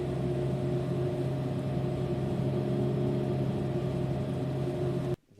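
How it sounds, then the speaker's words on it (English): A generator engine runs with a steady, droning mechanical hum and a pronounced low tone, continuous and fairly loud until it cuts off abruptly at the very end. "Wait, what is a generator engine?"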